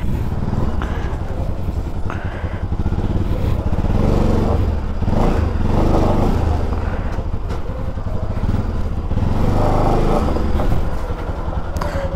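A motorbike engine revs and putters nearby as it is ridden into parking at a hotel near Cherrapunji in the rain, rising and falling over about twelve seconds.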